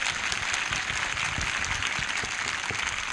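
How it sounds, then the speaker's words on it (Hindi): Congregation at a Palm Sunday church meeting clapping hands in thanks, a dense, steady wash of many claps sustained throughout at moderate level. "जिनको लग रहा है जीत रखा है वो ताली बजाकर धन्यवाद कर रहे हैं।"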